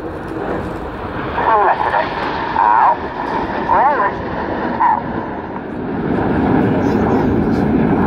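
Red Arrows jets, the synchro pair Red 6 and Red 7, in an air day flying display at Yeovilton, a loud continuous roar with wind buffeting under a commentator's voice.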